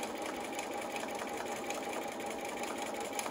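A sewing machine runs steadily, stitching a flannel burp cloth from top to bottom in one continuous, even whirring pass with no talking.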